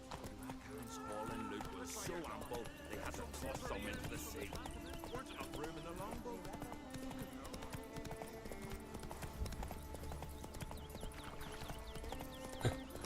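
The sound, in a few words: horse Roach galloping, hooves clip-clopping, from video game The Witcher 3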